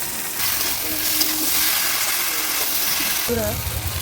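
Spices with chilli powder, cumin powder, salt and green chillies sautéed in a pan for a Bengali fish-head dish, giving a steady loud sizzle and hiss with stirring, which briefly drops away near the end.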